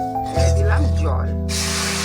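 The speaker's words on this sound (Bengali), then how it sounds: "দিলাম জল।" Water poured into a semolina mixture cooking in a pan, a steady hissing pour that starts abruptly and runs continuously alongside a low stove hum.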